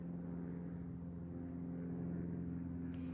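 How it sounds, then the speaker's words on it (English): A low, steady engine drone hums throughout, faint and distant, like a propeller plane passing overhead a woodland cabin. "You can hear a plane overhead right now,"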